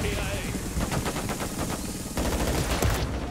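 Rapid automatic gunfire in a multiplayer shooter video game, with loud repeated shots rattling steadily at close range, layered over dense game sound and music.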